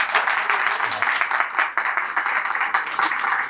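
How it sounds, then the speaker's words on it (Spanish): Audience applause fills a seminar room at a botanical garden after an integrative biology seminar, a dense, steady clapping that stays loud and even for the whole stretch. "Un aplauso para Sergio."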